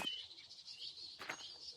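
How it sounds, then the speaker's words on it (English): Birds calling in a woodland, a soft steady cooing and chirping running throughout at moderate distance, with a brief flutter of wings near the end. "Let's chirp like those birds."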